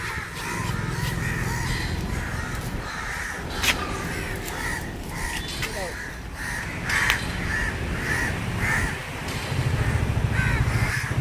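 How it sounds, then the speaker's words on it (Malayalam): Crows caw repeatedly, several harsh calls scattered at irregular intervals over an outdoor background hum. "കാക്കയുണ്ട് കാക്ക ഇഷ്ടം പോലെ ഉണ്ട്"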